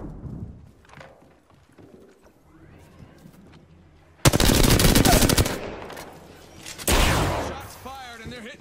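Video game gunfire in a shooter: two loud bursts of rapid automatic shots up close, separated by a short pause, after quieter game ambience and a voice.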